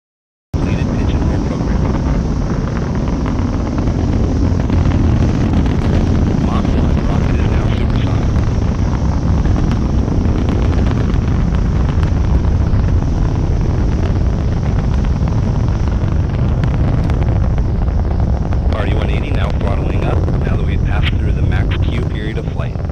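A ULA Atlas V 551 rocket launch roars as a continuous, loud, broadband rumble carried to the press site, with wind buffeting the microphone and voices talking underneath.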